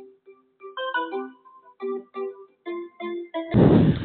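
A melodic phone ringtone plays a quick sequence of bright tones, loud and close, ending in a burst of noise as it is cut off.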